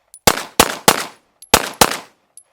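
A CZ TS 2 pistol fires five sharp, loud, close shots in two quick groups of three and two. Each crack is followed by a short ringing decay, with a few faint clicks between them.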